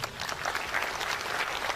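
Audience clapping at a stand-up comedy show in Manokwari, a steady even patter of many hands filling the room for under two seconds with no voices over it.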